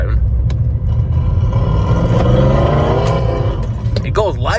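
A car engine revs hard at full throttle, a loud, close roar whose pitch climbs steadily under a speaking voice.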